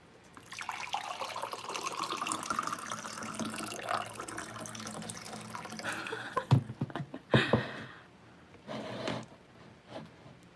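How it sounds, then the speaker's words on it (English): Running water, as in an ASMR recording, flows steadily from a tap or sink for about six seconds, then gives way to louder clunks, splashes and handling knocks with no one talking. "Here's some water ASMR for you guys"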